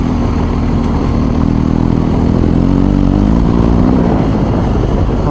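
A BMW R1250 GS Adventure HP motorcycle engine pulls in third gear up a slight incline on loose gravel, a loud, steady, close drone with a low rumble that rises slightly in pitch over the run.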